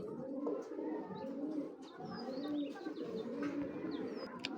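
A hammer pigeon coos softly in low, rolling phrases, with faint chirps of other birds scattered above it, heard at a fairly quiet level without talking.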